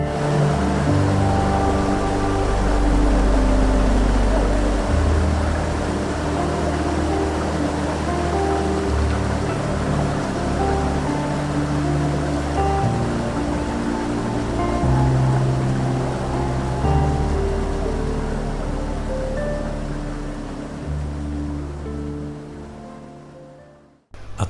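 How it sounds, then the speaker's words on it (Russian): Strong, continuous rush of flowing water from a pulsing spring in the Judean Desert, Israel, steady and close, with a low rumbling churn throughout and no voices. "Вот мы слышим сейчас сильный, хороший поток воды."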